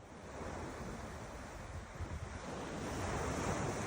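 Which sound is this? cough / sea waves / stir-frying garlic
sea waves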